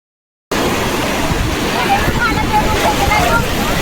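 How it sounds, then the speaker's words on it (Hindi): Strong winter sea waves break on the beach at Puri, a continuous loud roar of surf mixed with heavy wind buffeting the microphone, starting abruptly after a brief silence. "आप देख ही सकते हैं कि कैसे वेव्स आ रही है।"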